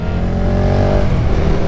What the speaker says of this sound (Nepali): मैले चाहिँ यहाँ सुपर डुक चलाउँदै हिँडिरहेको छु